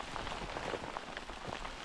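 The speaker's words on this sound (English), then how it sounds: "Well, it's full-blown raining right now." Heavy rain falling outdoors in Mount Rainier National Park, a dense, steady patter of drops on surfaces, soft but continuous throughout.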